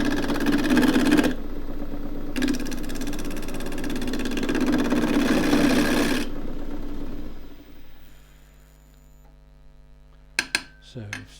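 A wood lathe spins while a continental gouge with a 15mm flute cuts a small toy race car. A loud, steady whirring cut runs with one brief pause, then winds down, and a few sharp clicks follow.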